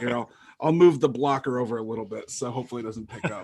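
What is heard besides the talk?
No everyday noises stand out.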